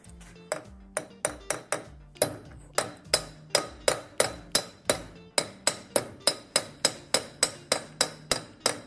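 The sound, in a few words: small hammer tapping car axle part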